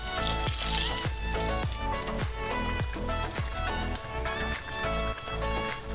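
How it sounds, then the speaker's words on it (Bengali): Dhuska, a rice and lentil fritter, frying in oil over a medium flame gives a steady bubbling sizzle, heard beneath background music with a regular rhythmic beat throughout. "আপনারা এটা মিডিয়াম ফ্লেমেই ফ্রাই করবেন"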